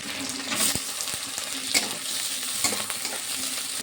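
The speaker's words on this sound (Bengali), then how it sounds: "ধুয়ে রাখা আলু, পেঁয়াজ চিংড়ি মাছ ভালো করে ভেজে নেবো" Shrimp with potato and onion fry in oil with panch phoron in a pan: a steady, close sizzle with occasional scraping stirs, no talking.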